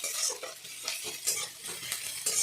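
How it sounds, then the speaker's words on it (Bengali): Onions frying in a pan, a steady bright sizzle with rhythmic scraping and stirring strokes from a spatula, close and fairly quiet, no voices. "পেঁয়াজটা ভাজা হয়ে যাক"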